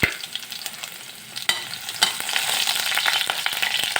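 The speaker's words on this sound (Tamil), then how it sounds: "கடுகு வெடித்ததும் அதில் அந்த பூண்டை போட்டுக்கோங்க." Garlic frying in hot oil with mustard seeds in a kadai for palak keerai thokku, a close continuous sizzle with sharp crackles and pops, a burst of spitting near the start and more around two seconds, no voices.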